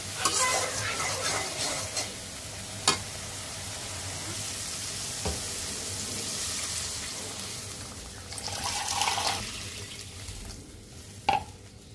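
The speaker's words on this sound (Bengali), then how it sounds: "হলুদের গুঁড়া, মরিচের গুঁড়া, ধনিয়ার গুঁড়া দিয়ে ভালো করে মশলাটা কষাবো।" A spice paste of turmeric, chili and coriander powder sizzles and fries in a pan while being stirred for a tilapia curry, with a steady hiss and a few sharp clinks and scrapes.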